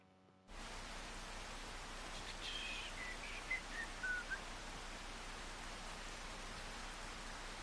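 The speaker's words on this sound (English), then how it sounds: "It's raining again." Steady rain from Farming Simulator 25 hisses in after a brief quiet start, constant and even, with a few faint bird chirps over it and no talking.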